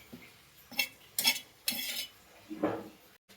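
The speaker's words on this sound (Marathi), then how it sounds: "असं खोबरं भाजून घ्यायचं आहे आपल्याला एकदम खरपूस" Grated coconut dry-roasted in a pan gives a few separate scraping strokes and light metallic clinks as a spoon stirs it, with short quiet gaps between the strokes.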